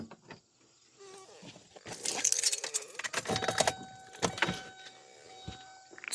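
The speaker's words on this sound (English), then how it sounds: "Now if you go turn the key on" A car ignition key is turned on, with jangling keys and clicking during a wiring job for LED off-road lights on a Kia. It comes as a close burst of rattling metallic clicks and short taps followed by a steady electrical tone, with no talk.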